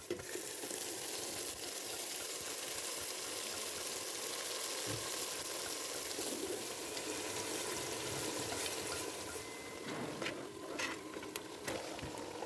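Ground masala paste frying in oil with browned onions for chicken biryani, a steady close sizzle and crackle running throughout with occasional stirring scrapes, no talk.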